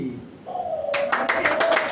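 Several people clap in quick, fairly regular beats at a birthday celebration, starting partway through and layered over a sung tune.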